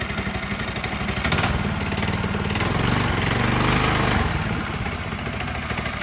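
A 212cc engine on a pit bike converted to a trike runs at a steady, choppy, loud putter close by, with a slight swell in the middle and no talking.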